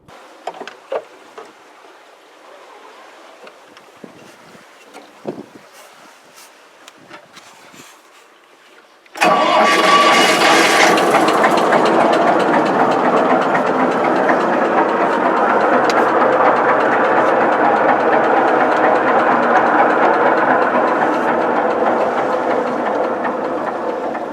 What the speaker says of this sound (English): the starter motor spins it, and then under pressure, it pumps in the fuel and it just keeps going